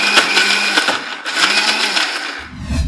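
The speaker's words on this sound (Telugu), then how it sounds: "కొద్దిగా కరివేపాకు వేసేసి గ్రైండ్ చేసేద్దాం" A mixer grinder whirs steadily as it grinds a paste of onion, chili and curry leaves, its loud continuous motor drone pulsing slightly before stopping abruptly near the end.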